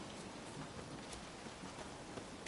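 Steady rain falls in The Witcher 3 video game, a dense, even hiss of drops on surfaces, soft and continuous with no talk.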